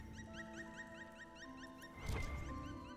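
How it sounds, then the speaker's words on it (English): An animal chatters with a monkey-like call in the fantasy video game Dragon Age: Inquisition, heard against a steady bed of layered tonal game ambience with chirping patterns and a brief louder rustling burst. "Again, sounds like there's a monkey in here."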